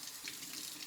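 Tap water runs into a sink for a quick rinse, a soft, steady splashing stream close by with no talking.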